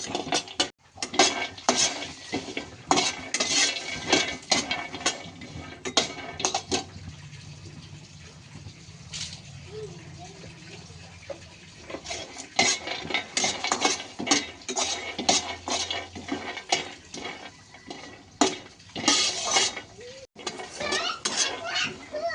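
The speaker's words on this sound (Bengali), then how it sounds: "কড়াইতে প্রথমে কাঁচা বাদামগুলো একটু ভেজে নেব।" Raw peanuts roasted dry in a metal wok, with rapid scraping and clattering of a spatula against the pan in repeated bursts, close and fairly loud, easing briefly midway before resuming.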